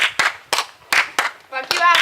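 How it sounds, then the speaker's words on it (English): Slow, sarcastic claps from a small group of people, about six sharp claps spaced steadily apart, close by, ending in a brief quick flurry of clapping. "If you weren't such a klutz, you wouldn't get the slow clap."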